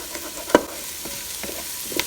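Potatoes and vegetables for loaded home fries cooking in a Ninja Foodi, a soft steady sizzle with a sharp stir or utensil knock near the start and lighter scraping clicks later, close and moderately quiet.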